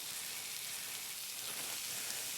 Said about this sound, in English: Oh, nice sizzle.